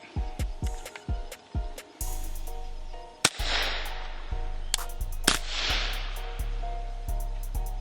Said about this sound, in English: We're using subsonic rounds, 147 grain. Let's see how it runs.